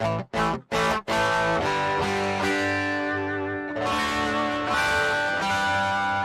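Dry electric guitar on the bridge pickup with no reverb: a few short choppy strums, then sustained distorted chords ringing loud and close.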